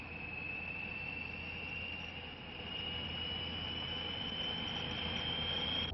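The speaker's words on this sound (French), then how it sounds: "7 heures, le Nord 262 décolle." A Nord 262 turboprop airliner taking off from Metz airport in 1975, giving a steady, loud engine drone with a sustained high whine that holds throughout.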